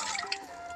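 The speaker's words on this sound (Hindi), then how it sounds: "अब वो पानी से धो रही है जो मैंने अभी नलके में भर कर दिया था" Dishes being rinsed with water poured from a filled tap pot, a brief close splash and trickle lasting under a second, heard alone.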